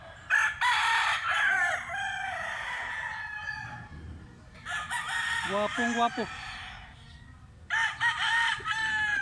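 A three-year-old blue-legged rooster crows loudly three times close by, each call long and drawn out, with a brief voice speaking between calls, in Cebu, Philippines.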